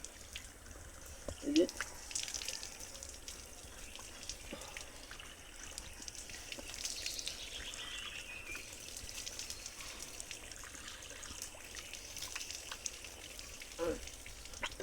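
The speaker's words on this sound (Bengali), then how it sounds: "তাহলে এতটুকু ধুয়ে নিব" Water splashes and trickles over skin while washing during wudu ablution, a soft, spattering rain-like wash running throughout, fairly quiet and close, with someone talking over it.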